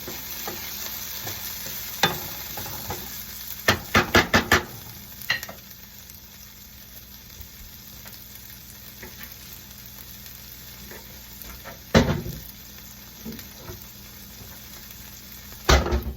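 Peas are added to a pan of eggs, with a continuous sizzle under sharp clatters and knocks, a rapid cluster near the four-second mark and single bangs later, close-up with no voices.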